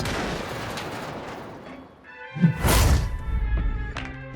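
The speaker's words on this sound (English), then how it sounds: "The silver medalist Jagdpanzer E100 decides to fire through the square." In the World of Tanks game, a Jagdpanzer E100 tank destroyer fires its gun on the Himmelsdorf map. Rumbling engine and battle noise lead into a sharp, loud cannon blast with a booming tail.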